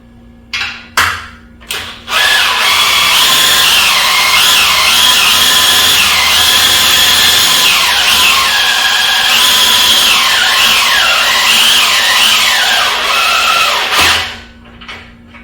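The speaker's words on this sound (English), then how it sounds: "So let's lift the bike up." A motorcycle lift raises a Honda Gold Wing DCT with a loud, steady motorized whine that wavers up and down in pitch for about twelve seconds, preceded by a few clanks and ending abruptly.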